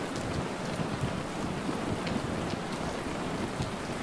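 Steady, dense rain falls without a break, with low rumbling thunder mixed into the wash of noise, a constant, fairly loud downpour and no voices.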